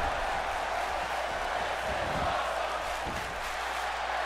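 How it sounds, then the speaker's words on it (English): Wrestling crowd in an ECW video game, a steady dense roar of many voices chanting together, loud and continuous with no clear breaks. "Crowd chanting, this is awesome."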